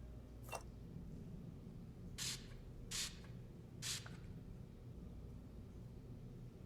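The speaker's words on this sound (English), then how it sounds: "Anna, spray the wall with luminol." Four short hissing spray bursts of luminol onto a wall in a video game, spaced a second or so apart, over a low steady rumble.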